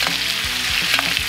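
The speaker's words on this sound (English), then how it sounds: "So we're just going to want to give this a good basting." A steak sizzles in a pan as it is basted with rosemary, a loud, close, steady crackle with soft sloshing bumps from the spoon.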